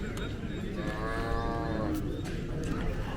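Native cattle, including young bull calves, at a weekly livestock market: one clear, drawn-out moo rises over a busy, noisy crowd, with people talking throughout.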